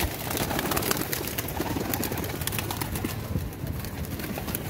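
A dense flock of pigeons caught from a plaza and held in a crowded enclosure fill the air with steady cooing, fluttering and scuffling, close and continuous throughout.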